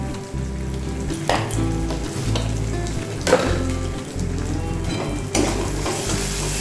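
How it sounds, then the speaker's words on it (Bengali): Boiled arhar dal poured into a garlic tempering in hot oil gives a loud, continuous sizzle and frying hiss, with a few sharp bursts where more goes in and stirring clatters over a low cooking rumble. "রসুন ভাজা গন্ধ বেরিয়ে গেছে, এবার আমি ডালটা ছেড়ে দেবো"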